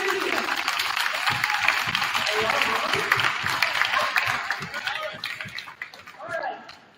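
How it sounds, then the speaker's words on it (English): Sustained applause from a school send-off rally crowd cheering the Warrior Media students, dense clapping with some cheering that carries steadily and then tapers off near the end. "we can give them a quick round of applause."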